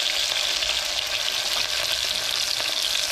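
Onions for a peas and potato stew fry in a pan with a steady, loud, close sizzle that holds even and unbroken throughout, with no talking.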